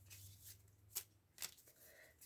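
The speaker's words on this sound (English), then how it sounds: "So I'm going to shuffle here." Tarot cards from The Good Tarot deck being shuffled by hand, quiet and close, with two sharp riffling bursts about half a second apart over a low background hum.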